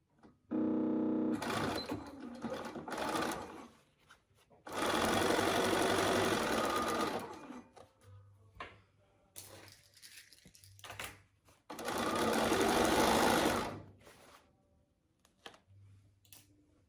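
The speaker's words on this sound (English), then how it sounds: "I'm going to drop my needle down right at that 3/8 point, right where that connects" Three bursts of a sewing machine motor stitching a straight seam through folded fabric, a fast, even whirring hum close by, separated by brief pauses with quiet handling of the cloth.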